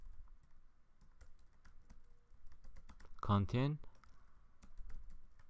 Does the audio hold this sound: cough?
no